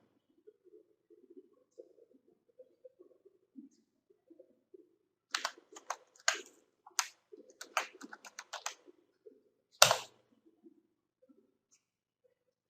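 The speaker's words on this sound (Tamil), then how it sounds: "பாஸ்வேர்ட் டைப் பண்றேன்." Password typed on a computer keyboard, a quick burst of sharp key clicks in uneven clusters, quiet and close, with faint low murmuring before and after.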